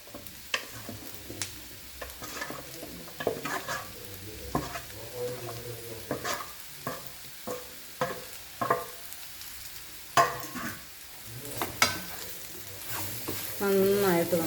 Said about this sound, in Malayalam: നന്നായിട്ട് നമുക്ക് ഇളക്കി യോജിപ്പിക്കാം